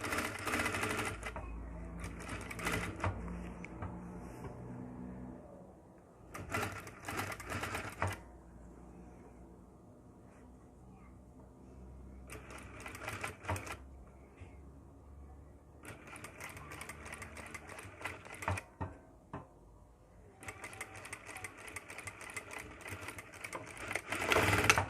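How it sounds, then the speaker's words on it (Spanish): A sewing machine stitching the side seams of a tailored jacket, running in several bursts of rapid mechanical whirring separated by short pauses, fairly close, with no talk. "Cosemos en el otro lado de la chaqueta"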